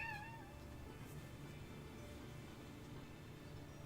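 A cat meows and squeaks faintly in short high calls near the start, over a steady low background hum, with no talking.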